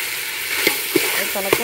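Chicken curry with tomato, onion, mustard seeds, chilli, masala and coriander boils in an outdoor village pot, a loud steady sizzling bubble with a few sharp pops, while a voice talks faintly over it.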